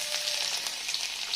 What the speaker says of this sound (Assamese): তেলখিনি গৰম হোৱাৰ লগে লগে দি দিম নহৰুখিনি